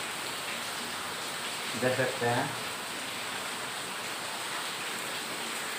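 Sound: heavy rain falling outside

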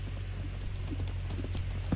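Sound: horse hooves moving during running W demonstration

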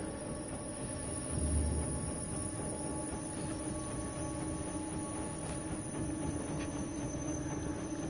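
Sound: train in the video game INSIDE

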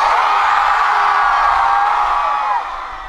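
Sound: crowd cheering at a university festival

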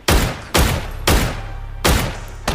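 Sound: gunshots in the video game PUBG

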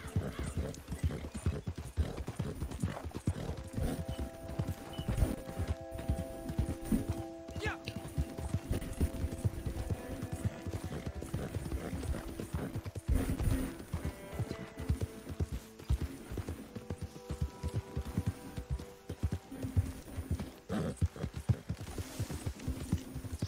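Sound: horse hooves clip-clop, from video game Red Dead Redemption 2

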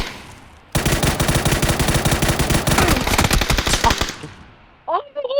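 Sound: gunfire in the video game PUBG

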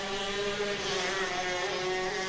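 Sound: 125 shifter go-kart running on track

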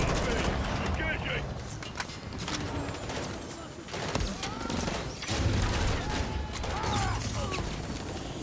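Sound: gunfire at a helicopter in Modern Warfare 3 video game

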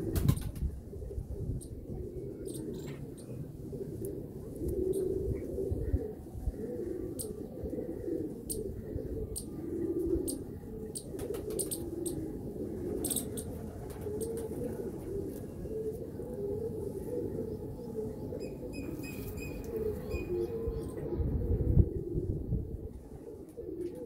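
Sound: cooing of a Sialkoti pigeon

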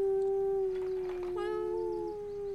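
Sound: person imitating a wolf howl

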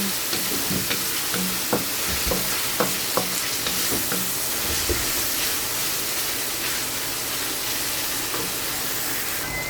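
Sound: tomato being sautéed and stirred with opo squash

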